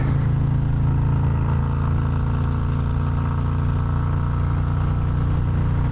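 A Harley-Davidson motorcycle rumbles steadily and loudly throughout, a deep continuous engine drone that holds even with no pauses or gear changes.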